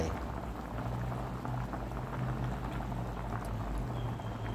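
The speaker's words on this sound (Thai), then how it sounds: "ตอนนี้หม้อก็เดือดแล้วเนาะ" A pot of catfish curry bubbles at a steady rolling boil, a continuous close burble with no voices.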